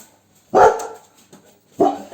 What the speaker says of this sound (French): désolé pour les aboiements.